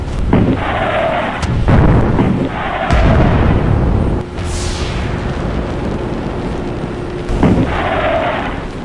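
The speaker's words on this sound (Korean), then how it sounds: "1번, 2번 포트 일제 사격!" A naval gun salvo firing in a Korea versus Russia war simulation game: several heavy booming blasts in quick bursts, each trailing into a rumbling decay, followed by a whistling streak and a lingering low drone.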